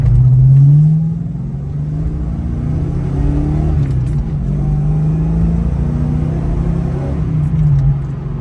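A 1989 Ford Mustang GT with its 5.0 V8 cruises steadily in third gear at about 55 mph, giving a continuous low engine rumble with mild swells in pitch, loud and close throughout with no talking.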